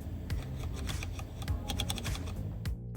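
Tactile rotary control knob in a Ford Mustang Mach-E cabin, turned repeatedly, giving a rapid run of crisp clicks over about three seconds, close and fairly quiet with no talking.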